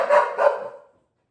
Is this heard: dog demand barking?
yes